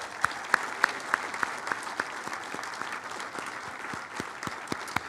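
Dense, steady applause from a dinner audience at a 2018 Founders Day awards program at the Falcon Club, with a few sharper individual claps standing out early, continuing evenly for several seconds without talk.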